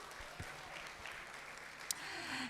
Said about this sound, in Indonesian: Mari kita berikan tepuk tangan dulu untuk Ibu Susan.